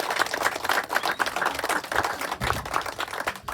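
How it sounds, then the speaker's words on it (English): A crowd applauds at a wedding speech in honour of the couple's parents, with dense, steady clapping from many hands that carries on without a break. "So I really want to ask for a round of applause for Heido and Claire's parents"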